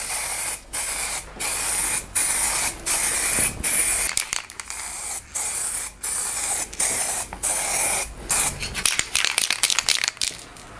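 Green paint sprays onto the rusty windscreen frame of a first-generation Lexus LS 400 in repeated loud hissing bursts, each a second or so long with short gaps, quickening into rapid short spurts at the end.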